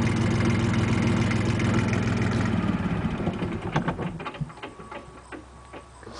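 A rental tractor's engine idles loudly with a rough, rumbling chug, then is cut off around midway, leaving scattered faint ticks and knocks as it winds down in the open.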